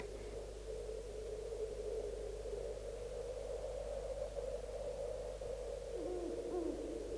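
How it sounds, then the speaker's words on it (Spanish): A Eurasian eagle-owl hoots low and steadily at night in Mediterranean scrubland, faint and distant under a constant hiss and hum, with a slight upward wobble near the end. "el dominador de la noche, el búho real, el gran duque"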